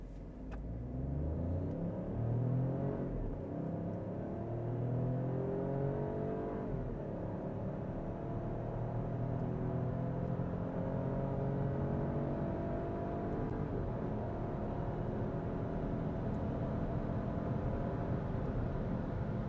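A 2024 Opel Grandland GS in sport mode accelerates hard from 0 to 100 km/h, heard from inside the cabin: a steady engine drone whose pitch climbs repeatedly through the gears, with no talking.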